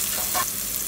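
Food frying in a pan, with a continuous bright sizzle and a brief scrape of a utensil stirring partway through, close up.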